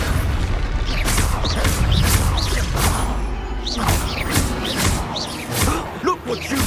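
Expulso explosion spells in Hogwarts Legacy, a series of loud booming blasts and whooshing impacts in quick succession amid combat clatter, with occasional voices.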